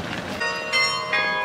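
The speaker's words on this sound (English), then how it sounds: "That's a 1 o'clock bell." A bell rings for one o'clock with several clear, resonant strikes about every third of a second. Each strike adds a bright ringing tone over the lingering hum of the one before, fairly loud and alone.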